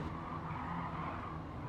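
Race car braking in Gran Turismo 7, a European hot hatch, with a steady broadband tire squeal and engine noise holding throughout a short burst, no voices.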